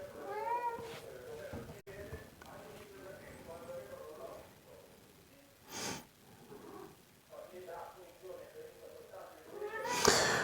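A cat meows several times, faint to moderate and intermittent, with snorts and breathy sounds between the calls while a person speaks.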